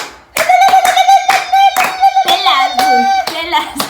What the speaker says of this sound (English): You do a granddaddy clap.